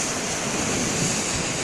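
Big ocean surf roars without a break, a dense, loud wash of crashing waves on the shore with wind blowing across the microphone and no voices.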